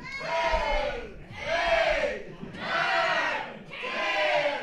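A wrestling crowd at a Christmas-themed live show chants a count together, four loud, evenly spaced shouted beats about a second apart, each swelling and fading in unison.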